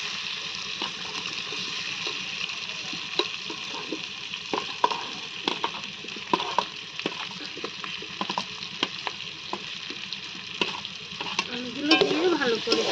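Potatoes tipped into a pan of vegetables for a vegetarian curry with soybeans and paneer, then stirred, bringing steady frying sizzle under repeated scraping and knocking of a spoon, with a louder burst of sizzle near the end.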